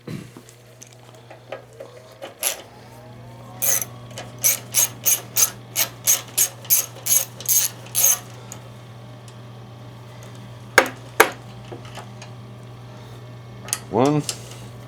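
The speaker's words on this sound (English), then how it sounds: "we'll get the carburetor bolts off." A ratchet wrench loosens the carburetor bolts on a Craftsman push mower in a run of about a dozen quick, evenly spaced clicks. A few louder clanks of metal follow, and a voice speaks briefly in the background.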